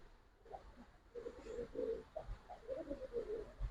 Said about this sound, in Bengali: লাল খাকি কবুতর